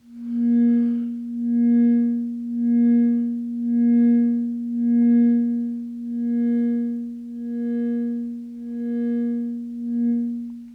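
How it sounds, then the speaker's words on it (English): A steady singing bowl drone from a Musical Mushroom Nomad Kit whose volume pulses in a slow, even tremolo, about once per second, ringing alone throughout. "you'll get a tremolo effect, which sounds like this"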